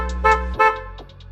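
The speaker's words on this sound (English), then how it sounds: "your car is gonna honk a couple times" A BMW F30 335 sounds its horn twice in quick succession, triggered from the display key. The honks are loud and nearby, followed by a faint chirp or beep.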